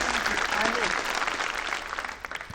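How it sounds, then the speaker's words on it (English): Studio audience applause from a clapping sound button, a short burst of dense clapping under people talking over it. "Who's pressing the clapping button?"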